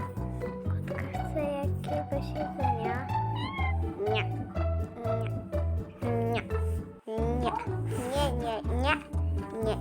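A cat meows repeatedly for food, its cries rising over a steady rhythmic music bed while someone talks and sings along.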